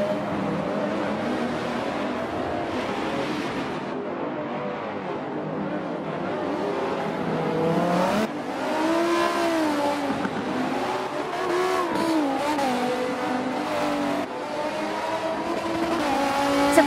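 Race cars in Forza 7 lap Circuit de Catalunya with a steady engine drone and rising and falling revs through the turns, tires squealing now and then, loud and continuous throughout.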